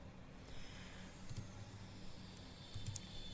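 A computer mouse gives a few faint, quick clicks in a quiet room, two small pairs spaced about a second and a half apart.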